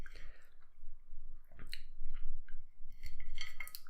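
A knife cuts through a Cadbury Dairy Milk Tiffin chocolate bar, giving faint, close crunches and small cracking snaps in scattered bursts that grow busier toward the end, with no talk.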